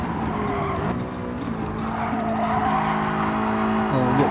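Tires slide and squeal through a corner in Gran Turismo Sport, a sustained screech over a steady race-car engine drone that climbs and shifts pitch as the car holds the slide.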